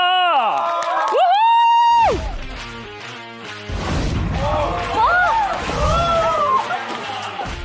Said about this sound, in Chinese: 下面让我们掌声欢迎本季全部实习生及带教入场